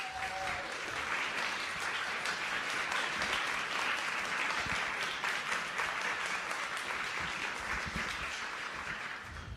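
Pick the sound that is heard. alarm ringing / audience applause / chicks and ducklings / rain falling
audience applause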